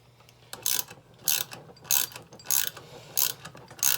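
A hand ratchet clicks in short bursts of rapid pawl ticks, about six separate strokes spaced evenly, close and fairly quiet, while a valve spring retainer is tightened on a Chevrolet LS 5.3 engine.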